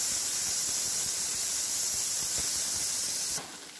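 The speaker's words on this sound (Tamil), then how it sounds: "நம்மளோட குக்கர்லேருந்து 2 விசில் வந்துருச்சு" A pressure cooker lets off steam during chicken gravy cooking, a loud continuous hiss held for several seconds before cutting to a quieter tail.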